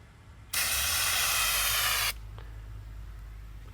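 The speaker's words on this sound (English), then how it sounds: "let me show you how it actually sprays" A wide spray nozzle that gives uneven coverage lets out one loud, steady hiss of spray lasting about a second and a half. It cuts off sharply and leaves low background hum.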